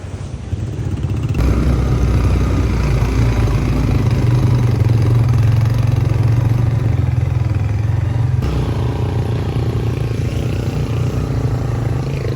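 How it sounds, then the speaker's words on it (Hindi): Dirt bikes on a steep, dangerous mountain track in Bashu Valley near Skardu, engine labouring hard and loud throughout, a steady heavy low drone that shifts slightly as the rider struggles upward, with a rushing water background. "ये मोटरसाइकिल नहीं चढ़ रहे, बहुत ज़्यादा मुश्किल हो रही है।"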